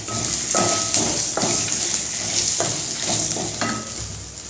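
Dried red chilies sizzle and fry in a pan with onion and chana dal for a tamil-style chutney, with steady broadband frying hiss and repeated scraping stirs of a spatula, fairly loud and close, no talking.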